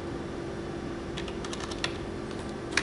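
A computer keyboard is typed on, entering measurement values into inspection software, with a handful of light, irregular key taps standing out over a steady background hum.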